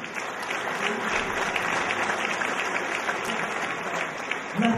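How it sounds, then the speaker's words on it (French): Sustained applause from the audience at a beauty pageant in Orléans, a dense, even wash of many hands clapping for about five seconds without a break, with a faint voice near the end. "Martine Griveaux, que je demande d'applaudir"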